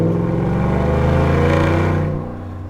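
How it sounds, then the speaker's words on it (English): A Roush supercharged 650 hp Ford F-150 V8 rumbles close up through the exhaust, a deep, loud, steady revving drone that eases off slightly toward the end. "there's no replacement for that V8 coming through the exhaust, right?"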